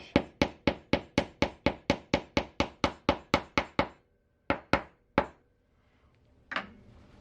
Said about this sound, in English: I'm choosing just to use the back side of my nail punch